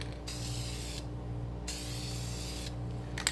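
Aerosol paint sprayed onto an interior car vinyl console in two long, even hissing bursts, close and loud, with a quiet pause between them and a faint rattle near the end.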